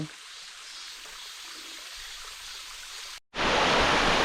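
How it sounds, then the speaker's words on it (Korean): The third unnamed waterfall in Bukhansan's Cheongdamgol valley, swollen after heavy rain, gives a steady rushing hiss of falling water. After a brief cut it bursts in much louder and closer as a full, roaring torrent. "여기가 세 번째 폭포 상단입니다"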